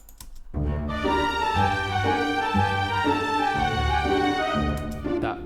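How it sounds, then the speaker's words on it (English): A sampled flute from the Spitfire Audio Studio Woodwinds library plays a sustained, slightly odd-sounding line over warm low accompaniment, the melody holding steady for several seconds before trailing off into quiet. "That weird sound you hear is the flute."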